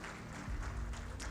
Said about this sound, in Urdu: تالیوں میں کنجوسی نہیں ہونی چاہیے.